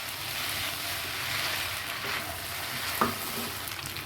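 Pasta noodles with chopped green chilies are stirred in a frying pan, giving a steady sizzle and soft scraping throughout, with one brief utensil clink near the end.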